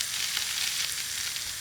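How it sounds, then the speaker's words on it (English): Steady, bright sizzling of chicken searing skin side down on a hot barbecue grill, loud and close, with no talking. "You can hear that beautiful sizzle."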